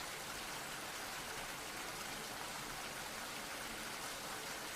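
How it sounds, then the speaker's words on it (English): Steady broadband rain hiss pours continuously at low level, a dense wash of pounding rainfall with no talk, as ambience for a tabletop role-playing session. "the rain is still pounding outside."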